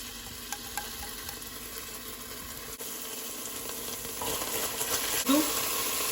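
Garlic and ginger paste fries in hot oil in a pan, a steady close sizzle that grows a little louder toward the end, with a few light clicks of stirring.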